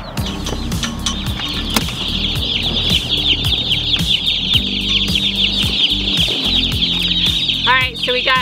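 A box of 150 newly delivered broiler chicks fills the air with dense, continuous high peeping from many birds at once, close and steady over a low background rumble.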